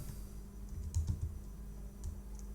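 Quiet computer keyboard typing while coding React, a short run of soft clicking keystrokes close by, with no talking over it.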